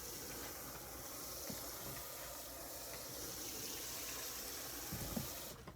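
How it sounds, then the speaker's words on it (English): A garden hose pours a steady, hissing stream of water over freshly planted microgreen seeds in a tray, close and continuous, then cuts off abruptly at the end. "and I'll just water that in."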